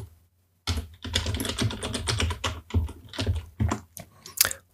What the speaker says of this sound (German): dann geben wir hier noch das Passwort ein.